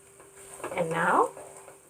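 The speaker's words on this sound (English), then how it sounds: "stir the veggies and the pasta well" Fried vegetables and pasta are stirred together in a pan over low heat for pasta Alfredo, with a quiet sizzle and a short swell of scraping in the middle.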